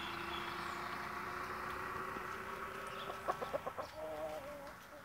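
Chickens cluck around a short-beaked Índia hen, with a short burst of sharp clucks in the middle of a steady background of farmyard bird sounds, moderately close.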